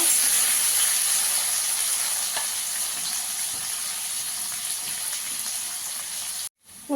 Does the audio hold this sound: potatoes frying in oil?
yes